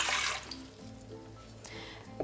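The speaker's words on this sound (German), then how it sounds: "Als erstes gebe ich das Wasser in die Rührschüssel." Lukewarm water is poured into a mixing bowl while preparing dough for bread sticks, a short splashing burst at the start followed by quieter trickles and a few drips, close and faint.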